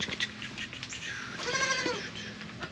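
Baby goats on a small goat ranch bleating, a few short wavering cries, one longer and louder in the middle, over quiet farmyard background.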